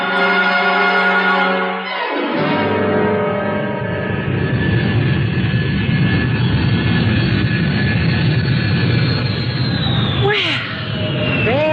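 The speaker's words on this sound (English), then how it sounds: "I had to see that plane in the sky before I'd leave." An airplane climbing away overhead, its engine drone loud and sustained, with a pitch that slides downward as it recedes and a brief tonal sweep near the end.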